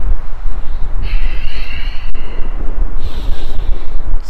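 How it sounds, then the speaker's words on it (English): Strong outdoor wind gusting steadily across a microphone on a hot day during an outdoor workout, a loud continuous low rumble with rising whooshes throughout. "Jeez, wind."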